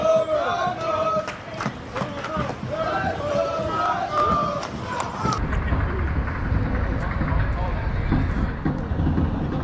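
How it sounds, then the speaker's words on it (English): A post-game crowd mills outside a stadium in Detroit, with loud overlapping voices, cheering and shouts close by, then a broader, lower murmur of the throng. "Post-game crowd, go Broncos."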